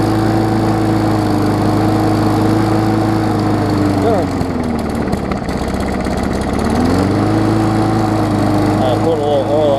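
The engine of a 2018 Murray big wheel mower runs loud and close with extra throttle, a steady droning hum that dips in pitch midway and then climbs back up.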